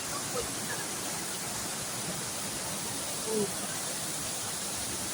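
Steady broadband rush of falling water at Thao To waterfall, a tourist site, constant and moderately loud, with no voices or distinct events standing out.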